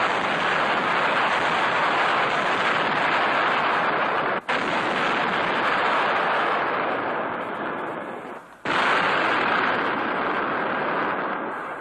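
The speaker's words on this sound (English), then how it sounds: "Weapons capable of hurling 300-pound projectiles many miles with amazing accuracy." Heavy artillery hurling 300-pound projectiles booms as a sustained, dense roar that fills the clip, with two brief gaps breaking the continuous loud wash.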